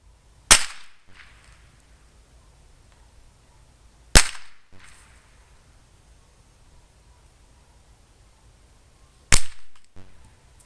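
Three sharp rifle shots are fired at small targets, widely spaced and loud, each a crisp crack followed by a short decaying echo, with quiet outdoor ambience between them.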